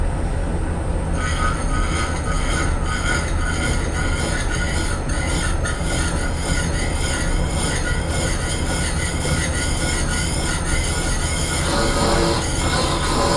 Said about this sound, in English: this is a high-speed steel plate, so cutting oil is a very good idea here.